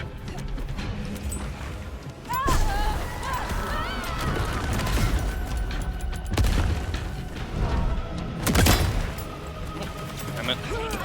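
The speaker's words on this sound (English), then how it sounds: "Who the heck is throwing grenades at me?" Grenade explosions and combat in the video game Vampire: The Masquerade Bloodlines 2: loud booming blasts and gunfire-like bangs over dense, continuous game noise, with voices speaking throughout.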